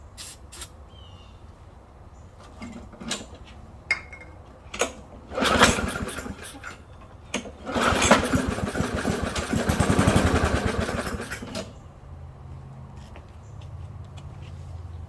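A small lawn mower engine coughs and sputters through several pull attempts, then catches and runs roughly for a few seconds before cutting out.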